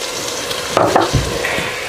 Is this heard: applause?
no